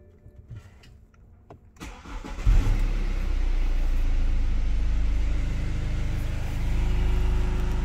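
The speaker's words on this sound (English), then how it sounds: "now we need to try start an engine" A BMW F10 engine cranks briefly after some quiet handling noises, then catches and settles into a loud, steady running idle with a deep low rumble that holds to the end.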